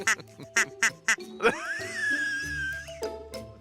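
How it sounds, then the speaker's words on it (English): A pair of ducks quack in a rapid series of short, nasal calls up close, followed by a longer drawn-out tone, with voices nearby. "There's a pair of ducks there."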